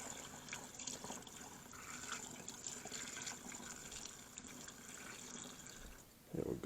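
Lacquer thinner poured into the transmission of a seized engine on a Rambler barn find, a steady liquid trickle and gurgle close by, ending with a brief clunk.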